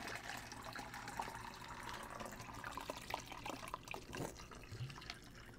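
Water from a pour misses the cup and spills, a faint steady trickling and splashing that runs throughout under a low background hiss, with no talking.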